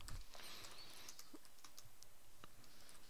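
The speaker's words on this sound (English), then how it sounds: "So just bear with me while I type this out." A computer keyboard clatters with quick, irregular keystrokes in short bursts, faint and close in a quiet room.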